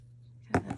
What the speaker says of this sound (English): Kind of tear it as I'm cutting it.